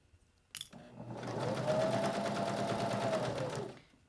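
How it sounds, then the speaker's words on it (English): A sewing machine stitches fabric for a small business card holder, starting with a click, then running in a steady fast whir for about three seconds before slowing to a stop, close up with no talk. "keep on stitching"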